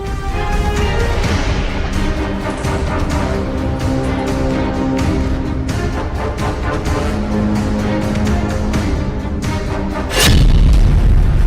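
Heavy explosions from attacks on Israeli tanks in Gaza war footage, a sustained roar of booming blasts with a sharp, loud detonation near the end.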